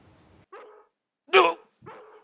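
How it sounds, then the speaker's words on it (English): A dog in the video game Harvester barks three times in short, sharp bursts, the middle one loudest and nearest, with brief silences between. "Shut this fucking dog up!"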